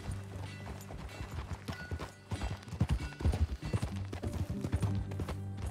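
Horse hooves clip-clop steadily in Red Dead Redemption 2, a moving rhythm of close, repeated strikes over a humming game soundtrack, with a short snort and brief voices.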